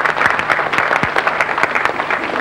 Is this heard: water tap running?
no